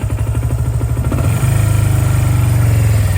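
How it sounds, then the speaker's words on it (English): A Kawasaki KZ305 motorcycle engine, running lean after a start on starting fluid, holds a high idle with a steady, loud, close throb that rises slightly partway through. "The idle kind of stays high."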